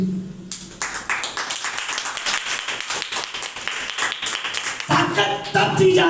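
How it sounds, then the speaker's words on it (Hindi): A crowd at a church service claps for a child, a steady patter of many hands that is near and moderately loud, with a voice speaking over the applause. "ताली बजाओ उस बच्चे के लिए"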